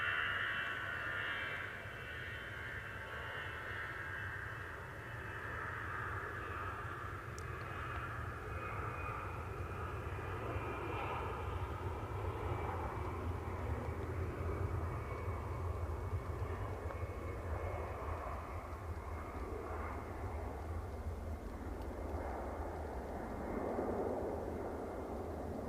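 German airline airliner taking off at Manchester Airport at night, a loud sustained jet engine roar held steady throughout, close and continuous with no talk.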